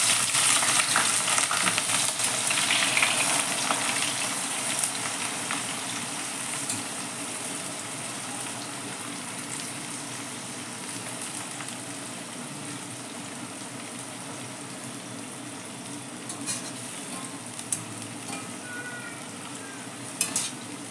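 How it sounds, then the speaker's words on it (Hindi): Four medium-sized onions fry in well-heated oil, a steady, close hiss and crackle of sizzling that holds evenly throughout without talk. "ऑयल अच्छे से गर्म हो गया, इसमें मैंने 4 मीडियम साइज की प्याज ली थी।"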